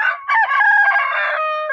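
A rooster crows in a small backyard coop kept in a cramped home yard, one close, loud call with a rising start and a long wavering hold, with no other sounds around it.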